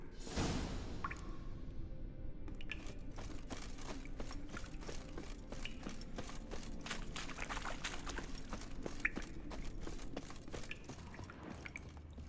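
Water in The Witcher 3 video game, a soft continuous liquid wash with many small drips and splashes scattered throughout, faint and steady with no voices.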